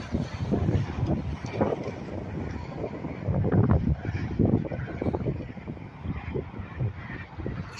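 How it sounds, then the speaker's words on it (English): Strong summer wind in the San Joaquin Valley buffets the microphone, a steady roaring rumble with gusty swells throughout and no speech. "we haven't had wind like this in San Joaquin Valley in a long time"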